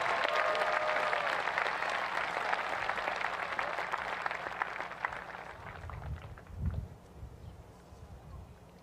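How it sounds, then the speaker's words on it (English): Graduation crowd at Eastmont High School's Class of 2021 ceremony applauds its valedictorians, a broad, steady wash of clapping that gradually thins and fades, with a few low thumps near the end. "Give them a round of applause."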